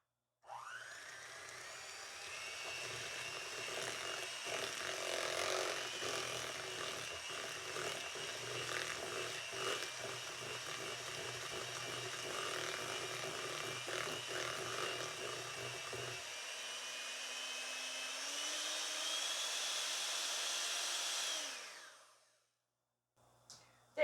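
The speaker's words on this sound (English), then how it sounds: "I'm using my hand mixer, not a stand mixer" An electric hand mixer whirs steadily while creaming sugar cookie dough, with a continuous motor hum and rattling beaters running for about twenty seconds before it shuts off.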